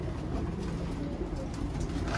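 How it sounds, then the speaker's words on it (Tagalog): Racing pigeons in a loft coo softly in a brief, continuous burble of low calls amid a close background hum, with no talking. "Boss, dami niyan mga kalapatid."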